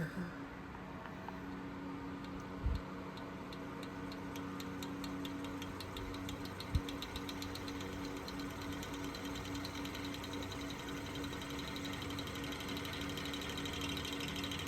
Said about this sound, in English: Let's see how well this thing can work the big 9-inch Franken fan.